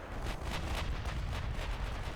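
Quad 6-inch secondary naval guns on a US warship fire in a video game campaign, a continuous dense rumble of overlapping booms that stays loud and steady without clear pauses between shots.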